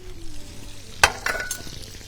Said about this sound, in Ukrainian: Ми розтоплюємо масло.